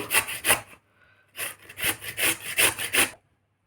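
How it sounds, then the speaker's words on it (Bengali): A raw potato is rubbed against a grater in rhythmic, rasping strokes, two quick scrapes, a short pause, then a run of about five more close, dry strokes. "এবার আলুটা গ্রেট করে নেব"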